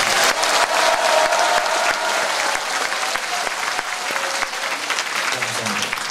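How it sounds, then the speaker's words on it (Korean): Sustained applause from a large political gathering at the National Assembly, a dense, steady wash of clapping hands that holds strong throughout as the party preparatory committee rules are adopted, with faint voices mixed in. "박수로 채택해 주시기 바랍니다."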